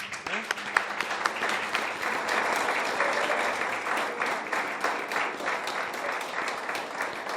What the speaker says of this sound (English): please, a round of applause for the new MotoGP legend, Stefan Dörflinger